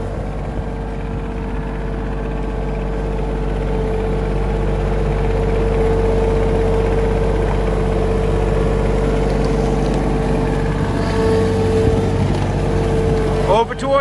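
Steady low rumbling tractor engine on a farm, running near and constant with a droning hum while a child drives it, with a brief clatter near the end.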